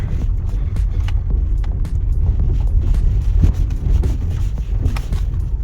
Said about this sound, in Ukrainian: зараз спеціально їду по такій по бруківці